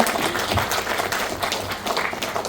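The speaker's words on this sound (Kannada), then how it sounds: "ಒಂದು ರೌಂಡ್ ಚಪ್ಪಾಳೆ." Applause from the audience at a Kannada film song launch event, dense continuous clapping filling the room at steady loudness, with faint voices mixed underneath.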